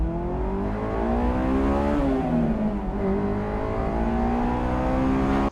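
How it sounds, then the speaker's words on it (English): A 2001 Honda S2000 engine revs loud and continuous while driving, its pitch rising, dipping around the shifts and climbing again, with steady drivetrain and road roar underneath. "Today we are driving a 2001 Honda S2000"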